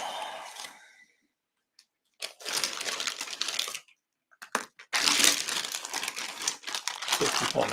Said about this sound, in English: Put all my stuff in a plastic bag.